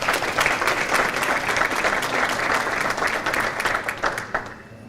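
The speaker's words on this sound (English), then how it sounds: "but Carol Conopoxy, let's give her a nice round of applause." Audience at an adult bowling association awards banquet gives a sustained round of applause, dense steady clapping from a crowded room that carries on for several seconds before fading out at the end.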